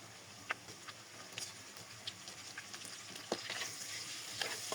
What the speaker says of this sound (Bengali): এখানে আমি টোটাল 3 চামচ পরিমাণে আদা রসুন বাটা অ্যাড করে দিচ্ছি